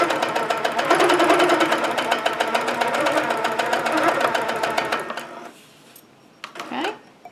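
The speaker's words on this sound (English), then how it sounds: "I'll be able to stitch the rest of that circle." ProPebble sewing machine stitching a circle, a fast steady mechanical stitching rattle that runs for about five seconds and then stops, leaving a quieter room with a brief voice at the end.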